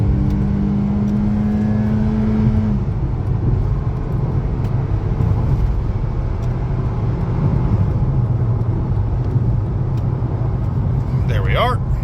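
A 2007 Honda Civic cruising at highway speed, roughly 75 mph, with a steady, loud low road and engine drone filling the cabin throughout and a brief faint higher tone near the end.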